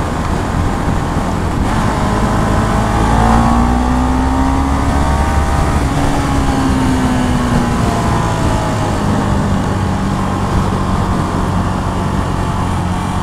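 Single-cylinder engine of a Husqvarna Vitpilen 701 motorcycle riding through Dubai, a loud, steady close-up drone whose pitch rises and falls through gear changes, with wind noise and no talk.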